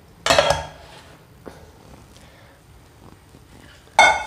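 An American-style cake flipped over in its pan on the stove, with a loud metallic clatter of the pan at the start, a few faint knocks in between, and another sharp clank at the end.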